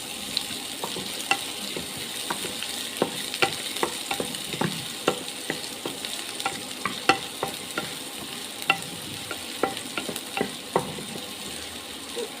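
Onion, ginger and chopped chilli fry in a pan, giving a steady, close sizzle broken by frequent sharp spatula scrapes and taps as they are stirred. No voices.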